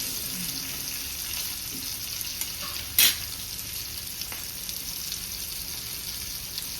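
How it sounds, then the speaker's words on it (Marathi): Semolina-coated pomfret frying on its second side in a pan, a steady close crackling sizzle throughout with one brief sharp clink near the middle, no voices. "दुसऱ्या बाजूने पण आपण व्यवस्थित फ्राय करून घेऊया।"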